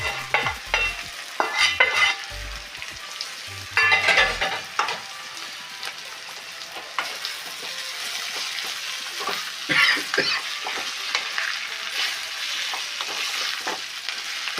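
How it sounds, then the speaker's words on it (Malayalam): Fried chicken pieces for chicken kondattam sizzle in a pan while being stirred, with bursts of scraping and clatter in the first seconds and then a steady close frying hiss, no voices present. "അതുപോലെ നമ്മൾ ചിക്കൻ ഫ്രൈ ആയി."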